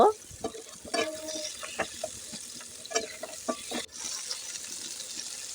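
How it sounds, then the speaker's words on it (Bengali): Sliced pointed gourd with onion and green chilli sizzles in a frying pan while a spoon stirs and scrapes it in irregular bursts of clatter over a steady fry. "এগুলোকে দেওয়ার পর এখন আমি নেড়ে চেড়ে মিশিয়ে নিব"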